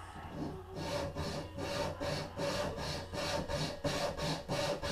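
A diamond file rasps a bevel into a bamboo self nock in rapid rhythmic back-and-forth strokes, about ten even passes, close and steady with no talking.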